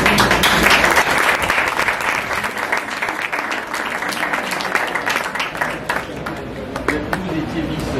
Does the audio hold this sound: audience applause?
yes